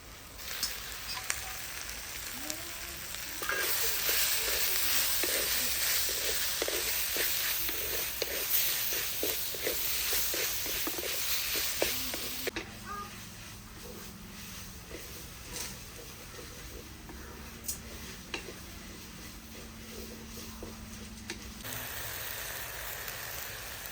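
Steady, loud sizzling of broiler chicken frying in a pan, a dense crackling hiss that drops to a quieter simmer partway through, with no talking.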